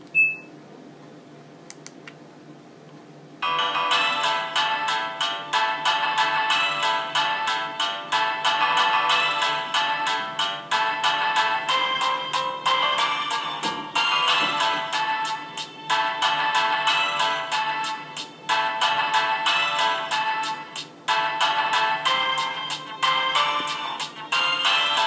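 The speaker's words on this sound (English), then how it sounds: "I want to show you the ringtones, really good ones in my opinion" Ringtones play from a Nokia 2310 mobile phone, a series of loud, bright, beeping monophonic melodies in rapid rhythmic patterns with short pauses between tunes, after a few quiet seconds of key clicks.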